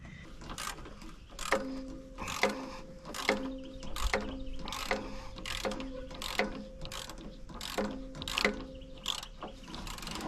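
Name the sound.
ratchet removing bolts from excavator muffler heat shield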